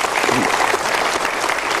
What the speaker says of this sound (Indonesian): Kita boleh minta tepuk tangan untuk dua orang yang berani curhat.